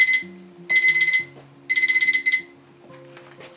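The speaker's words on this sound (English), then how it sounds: "Timer's going off again." An oven kitchen timer beeps in three bursts of rapid high electronic pulses, loud and close, with the quiet clatter and hum of a home kitchen underneath; no one speaks.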